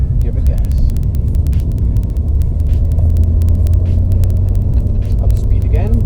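A manual car pulls away and accelerates, producing a loud, steady low engine rumble throughout, with faint ticking clicks scattered over it.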